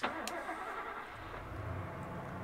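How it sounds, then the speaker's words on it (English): A truck engine in the video game 428: Shibuya Scramble starting up with a sharp onset, then a steady rumbling idle and rev heard from outside at moderate distance. "I hear the sound of an engine revving outside."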